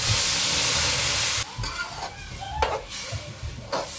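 Ground tomato hitting hot oil in a pan for crab curry, a loud bright sizzle for the first second and a half, then settling into a softer crackling fry with small bursts of spitting.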